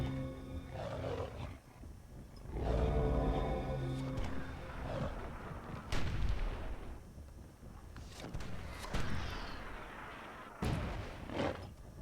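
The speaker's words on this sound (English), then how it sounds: "See Overdose dishing out some damage with his mortars" Dwarven mortars fire and burst in the Myth II Soulblighter video game, a series of loud, booming explosions with rumbling tails that overlap and repeat across the battlefield, with no voices.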